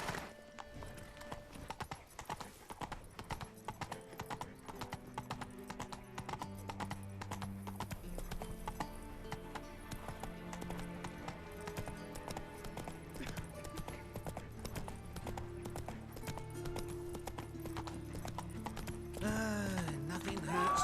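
Roach the horse gallops in The Witcher 3, its hooves pounding in a rapid, steady rhythm under a musical score, ending with a brief snort or whinny.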